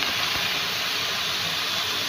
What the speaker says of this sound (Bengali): চলো মশলাটা এবার কষাবো